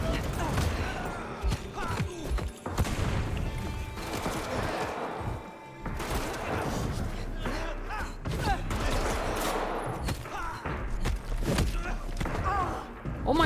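Gunfire rattles through a Vampire The Masquerade Bloodlines 2 firefight, repeated shots and thuds in irregular bursts at moderate loudness, mixed with game music and a player talking over the action.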